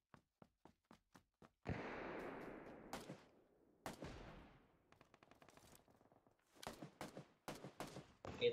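Gunfire in the PC shooter PUBG PC Lite: a string of sharp single shots, then a burst of rapid automatic fire, followed by scattered loud cracks and short volleys, fairly close and mostly unaccompanied.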